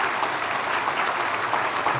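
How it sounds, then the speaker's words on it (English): An audience at a regional chamber awards event applauds its sponsors, producing a steady, moderately loud round of clapping heard alone from start to finish. "Can we please have a great round of applause for our sponsors?"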